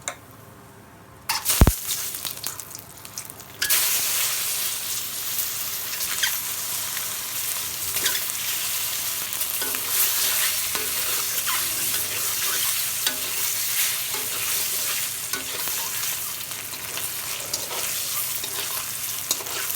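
Steady, bright crackling sizzle of an egg frying in a little hot oil in a wok, continuous and close after a brief quiet start with a single clink.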